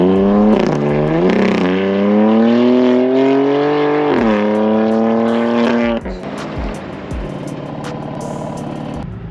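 A Stage 2 tuned BMW M4 with a 3.8 straight-six turbo engine and crackle-and-bang exhaust revs up through rising gear pulls. It then lifts off into loud popping and crackling bursts from the exhaust.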